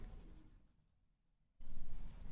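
Marker or chalk scrapes across a classroom board during an English lesson, a short close stroke, then a quiet pause and another firmer stroke.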